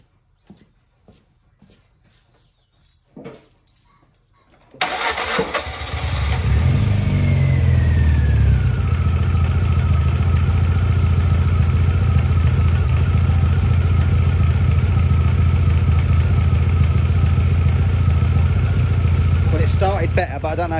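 A few faint clicks, then an MG ZR's engine cranks and catches, revving briefly before settling into a loud, steady idle that runs on continuously; the warm engine is not idling right.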